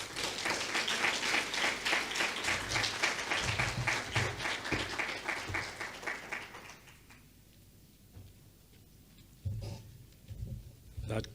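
Audience at an education association honours ceremony applauds after the president's speech with sustained, loud clapping for about seven seconds that fades into quiet room tone and a few scattered sounds.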